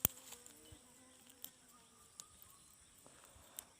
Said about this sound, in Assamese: ইয়াত পোক এটা আছে, ৰ'ব।